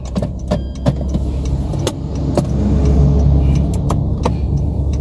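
A 2018 Honda Jazz RS GK5 hatchback with a 1.5 CVT pulls away, heard from inside the cabin as a steady low engine and road rumble with scattered sharp clicks and rattles.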